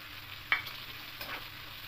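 Capsicum, onion and green chilli being stirred in a frying pan, a soft steady sizzle with one sharp scrape of the spatula early on and a fainter second stroke later, no talking.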